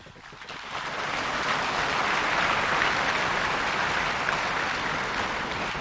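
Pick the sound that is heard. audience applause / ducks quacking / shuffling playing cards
audience applause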